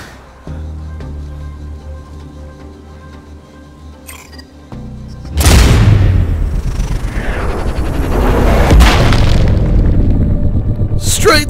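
Mortar shells burst in the shooter video game Sniper Ghost Warrior Contracts 2, with a sudden loud boom partway through followed by a long rumbling, crackling tail and further impacts, and a voice speaking near the start.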